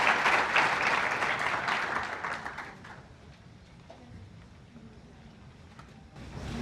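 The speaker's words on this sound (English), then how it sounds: "How about we give our panel one final round of applause?" Audience applause for a panel at a physical sciences new student welcome event, fairly loud clapping for the first few seconds that fades away to quiet room tone, then a faint sound near the end.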